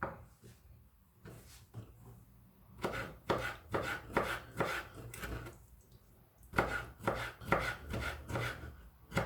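A knife chops softened dried apricots quickly on a cutting board, sharp rhythmic strikes in bursts with a brief pause between, close and clear.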